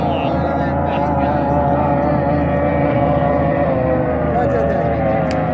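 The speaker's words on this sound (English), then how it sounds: "Full blown alcohol boat." An alcohol-fuelled racing motorboat roars steadily on the water, a loud continuous engine drone holding an even pitch throughout, with faint voices barely audible beneath it.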